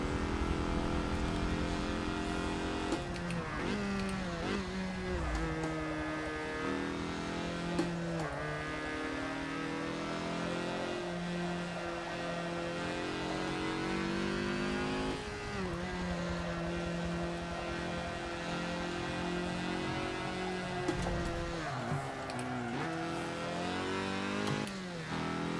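Race car engine through a lap in Forza Motorsport 7, high revs climbing steadily then dropping sharply at several gear shifts and braking points, a loud, continuous whine with no talk.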